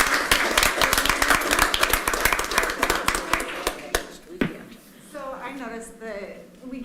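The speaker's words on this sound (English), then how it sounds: "Let's give them a round of applause." A room at a city council meeting breaks into a round of applause, with crisp, closely spaced claps from a modest crowd for about four seconds. The clapping fades out and a voice starts speaking.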